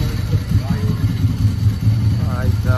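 A motorbike pulls in on a hilly road under cloudy skies, its engine throbbing in low, uneven pulses close by while a person talks over it.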